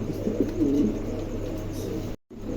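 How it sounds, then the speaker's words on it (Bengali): A pair of king pigeons coos softly and steadily, the low murmuring calls close by, with a brief drop to silence near the end. "চমৎকার একজোড়া কবুতর, ভালো লাগলে অবশ্যই সংগ্রহ করতে পারেন।"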